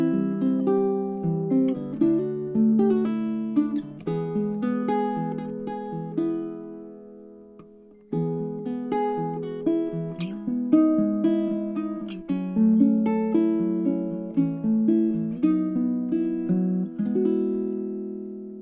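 Baritone ukulele plucked solo, with clean, bright notes playing a gentle melodic tune in two phrases separated by a brief pause.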